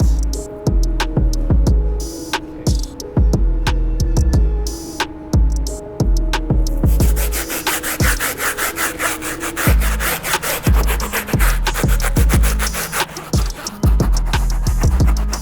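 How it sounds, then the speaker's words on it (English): A stiff bristle brush scrubs the outsole of a Nike Blazer sneaker in fast, loud, evenly repeated back-and-forth strokes, close up and continuous throughout. "Next thing I am gonna do is clean the outsole, and I'm gonna use the stiff bristle brush on that."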